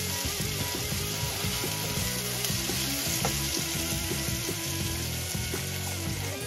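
Onions sizzle and crackle steadily in a hot pan, softening without browning, a loud continuous frying hiss with dense popping and a few stirring scrapes, no talk over it.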